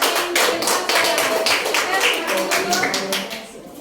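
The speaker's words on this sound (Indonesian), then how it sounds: "tepuk tangan untuk kelompok" Classmates clap for a group after its presentation in a classroom, a close, loud patter of hands with distinct individual claps, and voices talking faintly underneath before it tapers off.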